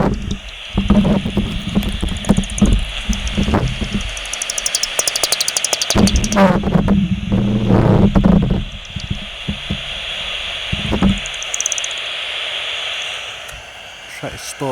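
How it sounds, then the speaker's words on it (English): A bat detector picks up a bat flying overhead outdoors, giving bursts of rapid clicks and crackling chirps that come and go over a hissing background, with someone talking at the start. "So I'm here with my trusty bat detector and just turn it on, and there's a bat just flown out right above me."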